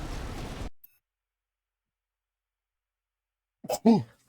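A single sharp human sneeze near the end follows a short burst of video game sound and a long silence, loud and close to the microphone.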